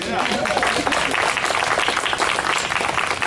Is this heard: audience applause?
yes